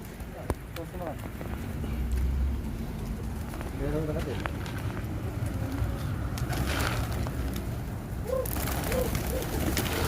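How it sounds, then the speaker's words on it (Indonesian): Flock of pigeons being fed, with soft cooing and scattered bird calls and fluttering close by, and voices in the background. "Ini dia guys, banyak burungnya."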